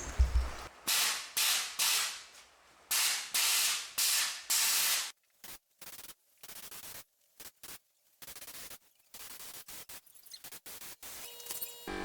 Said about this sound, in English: This is the next step, what I'm gonna blast and take care of it.